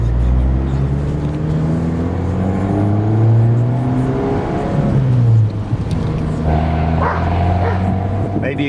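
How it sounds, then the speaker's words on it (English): A 2013 Fiat Abarth 500 Cabriolet exhaust drones steadily while driving, a low continuous engine hum rising and falling slightly with light throttle, close and fairly loud inside the car. "Maybe you can hear the exhaust a little bit."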